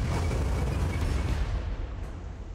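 Rumbling artillery fire in the Warhammer 40K Armageddon strategy game, a continuous dense low boom and crackle of bombardment, loud and unbroken with no speech.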